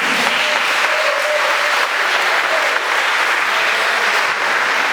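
A church congregation applauding at a wedding, a dense sustained wash of clapping from many hands that fills the room evenly for the whole stretch, with no voices rising above it.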